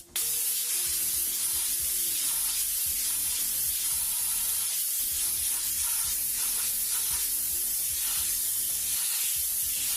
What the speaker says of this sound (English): Nice wide spray.